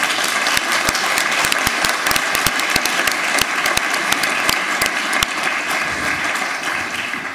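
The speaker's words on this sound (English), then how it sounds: "could we please have a round of applause for our excellent panelists" Applause from a conference audience at an energy efficiency event, dense clapping with sharp individual claps standing out, loud and sustained before easing slightly toward the end.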